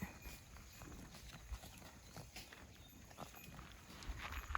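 A herd of cattle walks out of the pen to graze beside a dry rice field, with faint irregular hoof thuds and shuffling over a quiet outdoor background.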